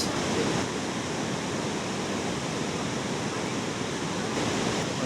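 A waterfall in Vietnam roars as a dense, constant wash of falling water, steady and loud throughout with no breaks.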